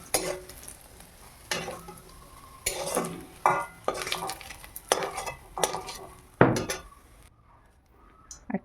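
Cooked prawns are lifted out of a hot frying pan while making a Bengali prawn and green jackfruit dish: irregular scraping and clinking of a utensil against the pan over a light sizzle, in short bursts with brief pauses and no talking.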